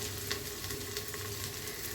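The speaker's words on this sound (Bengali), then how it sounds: "গরম মশলাগুলো হচ্ছে প্রথমে একটু ভেজে নিব" Whole garam masala spices fry in oil in a pan, a steady soft sizzle and crackle throughout, close and fairly quiet with no voices.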